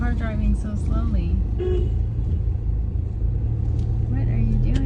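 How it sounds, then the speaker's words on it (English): A car moves slowly along a road, with a steady low engine and road rumble throughout. A person talks over it, and a brief horn-like toot may sound. "Why is this car driving so slowly?"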